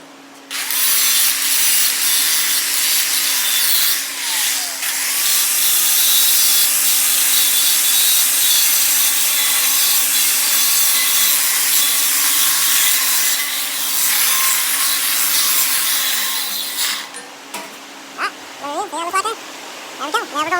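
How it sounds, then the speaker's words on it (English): A power grinder working metal weld tie-ins during a welding repair, a loud steady high-pitched grinding that runs almost unbroken for about seventeen seconds before cutting off, followed by quieter scraping and handling noises. "We will grind our tie-ins"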